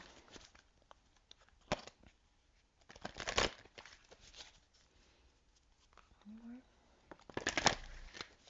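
A deck of Crystal Angels oracle cards is shuffled up close in several quick riffling bursts separated by pauses, with a short stretch of faint voice in between.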